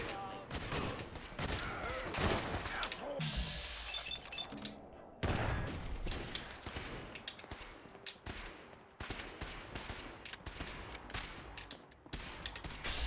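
AK rifle fire in a video game, with dense, repeated automatic bursts and volleys running through the whole stretch, broken by short pauses, under someone talking.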